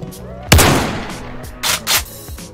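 Shotgun blasts in the virtual reality shooter Black Ops VR: one loud, close, booming shot with a long decaying tail, followed by two quicker, lighter reports near the end.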